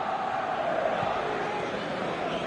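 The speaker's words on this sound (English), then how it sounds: "Well, at least the crowd are appreciative of his efforts." Stadium crowd in an eFootball match swells in a sustained, broad applauding roar after a near-miss goal attempt, steady and loud throughout.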